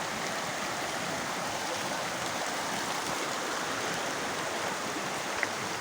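A river flows steadily, a constant broadband rush of running water, moderately loud and unbroken, with no distinct voices standing out.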